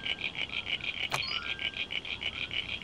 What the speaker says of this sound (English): those crickets are actually starting to annoy me